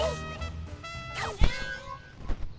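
A cartoonish cat meows several times in the VR Playroom video game, short rising and falling cries over other game sounds, with one sharp thump midway.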